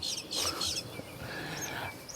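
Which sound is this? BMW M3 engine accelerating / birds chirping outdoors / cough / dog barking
birds chirping outdoors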